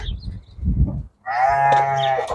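Low farm-animal calls, including chickens, open the clip, then after a brief pause a sheep's long, loud, wavering bleat rings out close by.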